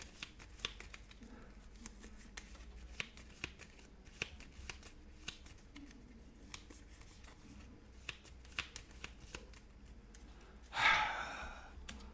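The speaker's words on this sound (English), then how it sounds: "once we're done shuffling" Cards for the Aeon's End board game are shuffled in a long run of soft, close riffling clicks, followed by a brief louder rustle near the end.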